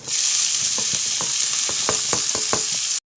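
Onions frying in ghee with garlic and curry leaves make a loud, steady, close sizzle. A rhythmic series of spatula scrapes and taps stirs through it before the sound stops abruptly, with no talk.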